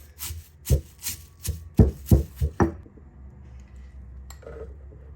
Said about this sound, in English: we're just gonna add them to this very mortar and start to pound it